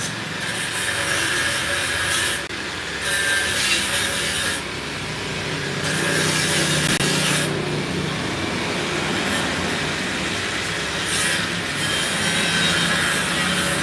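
Power tool cutting wood, a steady loud rasping, sawing drone that runs continuously with brief dips in intensity.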